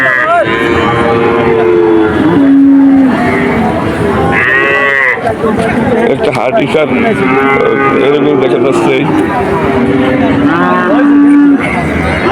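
Cattle at the Betaga cow market in Bangladesh, with loud close moos rising and falling several times amid constant chatter of traders and someone speaking nearby.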